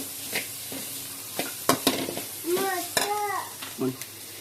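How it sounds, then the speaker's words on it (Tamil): Egg stirred into chicken fried rice in a pan: a soft sizzle under repeated scraping and clinking strokes of a spoon against metal, close by, with a few faint chirpy bird-like or squeaky tones mixed in. "முட்டை போட்டு நல்லா கிண்டி விட்டுக்கலாம்"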